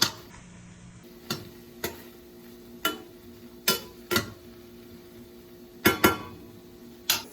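A spoon clinks against a dish at irregular intervals while seasoned turkey is mixed, with sharp, close taps separated by quiet pauses and a soft background hum.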